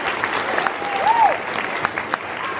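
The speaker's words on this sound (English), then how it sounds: "can you join me with giving all of the kids a round of applause?" An audience applauding a group of school kids at an end-of-year event, a moderate steady patter of clapping with a brief faint tonal sound partway through.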